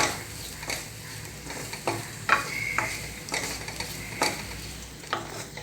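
Grated coconut stirred in a hot pan for a banana and beaten rice snack, repeated scraping strokes of a spoon against the pan about once a second over a soft sizzle, close by with no talking.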